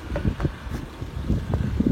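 Strong gusts of wind during a snowstorm buffet the microphone in rough, uneven low rumbles and bursts that rise and fall for the whole moment.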